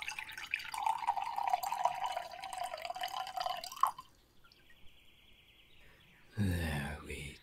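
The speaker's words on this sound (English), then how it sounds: "let me pour the water into your bowl" Water poured into a bowl trickles and splashes softly for about four seconds in a close, quiet ASMR setting, followed by a faint thin tone and then a brief louder clatter near the end.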